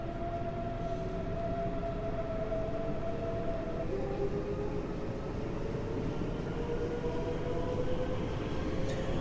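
A German diesel train on a Dresden-based route in Train Sim World 2 drones with a steady, loud engine rumble and faint rising tones, continuous and unbroken without any talk.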